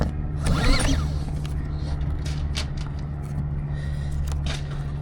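Recoil starter cord of a maXpeedingRODS MXR3800 petrol generator yanked once with a quick rising whir, followed by a steady low engine-like hum and faint clicks and rattles nearby.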